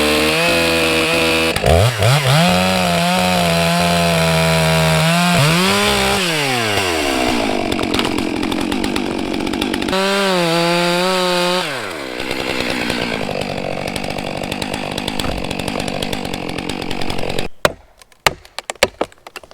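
A new chainsaw cuts up fallen tree logs beside a dam access road, its engine revving up and bogging down through repeated cuts, loud and close, with a rougher idle stretch and sharp knocks at the end.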